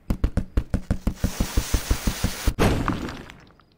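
A pickaxe striking in Henry Stickmin Collection, heard as a fast, even run of about fifteen loud hits, then a crashing burst that fades out.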